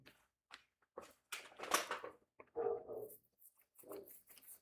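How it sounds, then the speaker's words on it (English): A dog barks and whimpers in short, irregular bursts with quiet gaps between, sounding fairly close and alone with no talking. "the neighbour's barking dog in the background"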